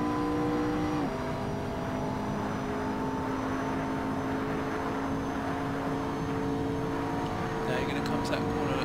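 A car engine drones hard under full throttle, its pitch dropping once as it shifts up a gear and then holding a strong, steady note, with someone talking over it throughout.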